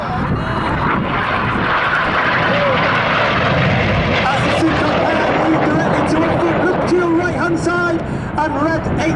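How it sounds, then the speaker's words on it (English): Red Arrows jet aircraft pulling hard at 6G during an air display, a loud sustained roar of jet engines with a commentator speaking over it throughout. "both aircraft now turn hard, pulling up to 6G away from the display line"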